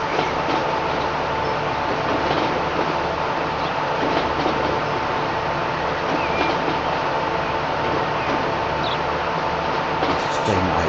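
A train in Transport Fever rumbles steadily along bypass tracks, a continuous mid-distance rolling drone with faint clicks and no clear pauses.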